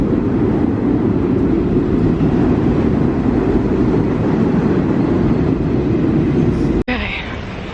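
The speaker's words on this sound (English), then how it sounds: "Okay, just got off the train." New York City subway train ride, a loud steady low rumble inside the car, continuous throughout before an abrupt cut near the end.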